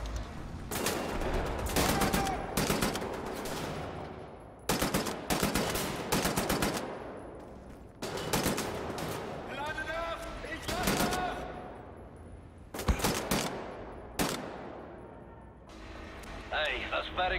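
Repeated bursts of flak cannon fire in Wolfenstein: The New Order: rapid, loud volleys of heavy gunfire in several separate salvos with short gaps, mixed with battle noise and voices.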